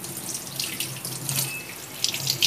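Kitchen tap running water onto a hot idli steaming plate to cool it, a steady splashing hiss with small bursts of spatter as the plate moves under the stream, close and alone.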